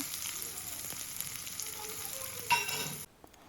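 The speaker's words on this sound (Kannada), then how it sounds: "ಫಸ್ಟ್ ಈರುಳ್ಳಿ ಹಾಕ್ಕೊಂಡು ಫ್ರೈ ಮಾಡ್ಕೊಳ್ಳಿ ಸ್ವಲ್ಪ" Chopped onion frying in oil already crackling with cumin and mustard seeds for Andhra-style methi dal, a close steady sizzle with a sharper burst near the end before it cuts off abruptly.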